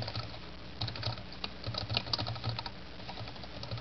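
Steady computer keyboard typing while a code comment is entered, a quick, fairly close run of light key clicks with no talking over it.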